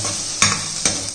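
Peanuts and chopped vegetables stirred in a hot pan, giving a steady soft sizzle with two sharp scraping strokes of the spatula, close and alone without talk.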